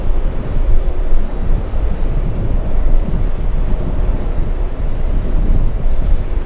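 A Boeing 747 takes off at Los Angeles airport, heard as a loud, steady, broad jet roar that fills the whole stretch without pause, fairly close.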